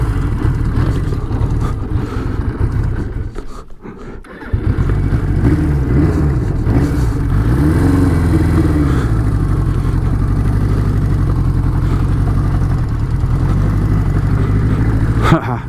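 A Suzuki GS1000 motorcycle on its shakedown ride accelerates away. The engine note climbs steadily through the gears, loud and close, with a brief dip before it pulls hard again.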